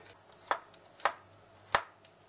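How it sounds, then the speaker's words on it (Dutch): Three sharp knife chops through garlic on a cutting board, spaced about half a second apart, close and crisp against a quiet background. "Vergeet de knoflook te snijden."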